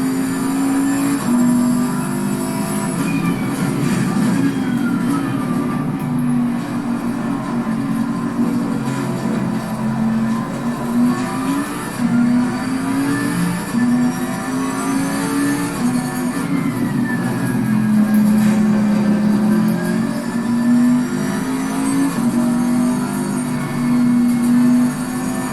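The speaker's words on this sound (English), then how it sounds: "I feel like I'm killing the car with these downshifts." Race car engine in Assetto Corsa Competizione at Zandvoort, played on PS5, droning steadily with pitch rising and falling through repeated downshifts, loud and continuous with no talk.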